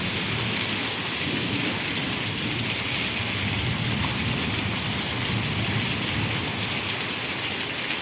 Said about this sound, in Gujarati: કેટલા આજથી ભારે વરસાદ પડી રહ્યો છે